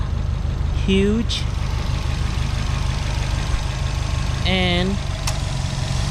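A 2011 Subaru Impreza WRX hatchback's 2.5 liter turbocharged engine with a top-mount intercooler and upgraded AEM intake idles with a steady low rumble, while someone talks over it and brief squeaky tones sound twice.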